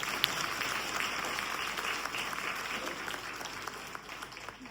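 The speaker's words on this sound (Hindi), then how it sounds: "जोर से तालियां बजाएंगे।" An audience at a spiritual talk claps loudly together, a dense, even patter of many hands that carries on without pause and fades slightly toward the end.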